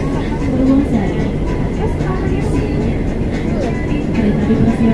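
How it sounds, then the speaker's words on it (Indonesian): A KAI Commuter electric train runs on the Yogyakarta–Solo line at Purwosari station with a steady, close, dense rumble under a spoken station announcement. "Kereta dipersiapkan masuk di jalur 1"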